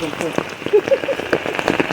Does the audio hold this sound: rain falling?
yes